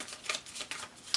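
Tarot cards being shuffled by hand in a few soft, papery riffling bursts, quiet and close, with no voices.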